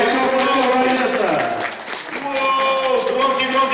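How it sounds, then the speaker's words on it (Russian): Applause from an audience at a Power Hit Radio shooting event's prize announcement, a steady dense clatter of clapping with tonal music and announcer voices mixed in, dipping briefly in the middle before swelling again. "Громкие-громкие аплодисменты!"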